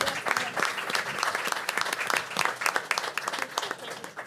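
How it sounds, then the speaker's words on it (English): A room of attendees at a school board meeting breaks into steady, sustained applause honoring a staff member, many hands clapping at once throughout with no voices on top. "let's give a round of applause"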